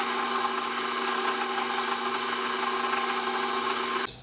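Steady droning whir of an electric mixer beating shortening at medium speed, constant and close, cutting off abruptly near the end.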